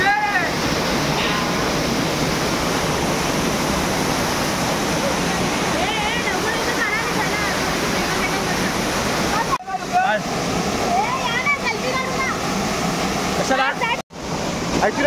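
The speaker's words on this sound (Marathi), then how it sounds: "आता तुम्हाला मी धबधब्याच्या इथे देतोय, पाणी किती पडतंय फोर्सने ते बघायला मिळेल." Waterfall in Konkan pouring with force, a loud continuous roar of falling water with voices speaking over it.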